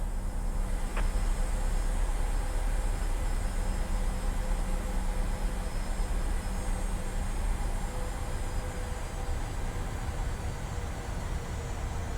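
A PMDG Boeing 737-700 in a flight simulator rolls for takeoff, a steady broadband engine roar and rumble holding constant throughout with no talk over it.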